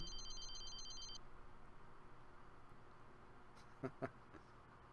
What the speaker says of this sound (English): Oh, phone's ringing again.